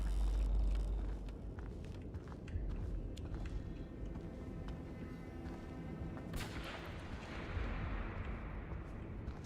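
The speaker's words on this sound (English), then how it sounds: "we heard a gunshot." A gunshot rings out in the retro-styled video game Eclipsium, one sharp report followed by a low, booming rumble, all fairly quiet against a dark, droning background.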